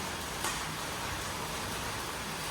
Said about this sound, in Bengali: সন্ধ্যে থেকে যা বৃষ্টি হচ্ছে টানা তিন ঘন্টা বৃষ্টি চলছে এখনো চলছে